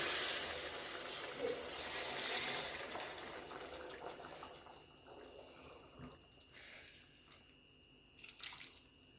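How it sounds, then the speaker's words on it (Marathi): Hot water poured into a pot of bombil (Bombay duck) fish curry, a soft continuous liquid rush in the first half that tapers into faint drips and light clinks, heard close with no talk over it. "तर गरम पाणी टाकून घेऊया"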